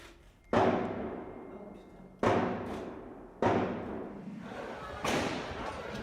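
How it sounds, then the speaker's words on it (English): Four loud, sharp gunshots from heavily armed attackers at irregular intervals, each followed by a long echoing decay, in an enclosed space in Paris. "The gunshots you hear are killing people."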